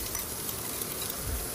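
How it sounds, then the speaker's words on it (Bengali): Chopped onion sizzles in a kadai with cinnamon, cardamom and cloves, a soft, continuous close frying hiss with no voices. "আদা, রসুন এবং পেঁয়াজ ভালো করে একটু ভেজে নিব।"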